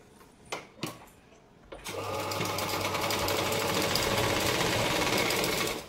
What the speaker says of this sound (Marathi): ज्याप्रमाणे टक्स स्टिच करून घेतला त्याचप्रमाणे याही साईडचा स्टिच करून घ्यायचा।